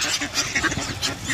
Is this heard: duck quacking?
yes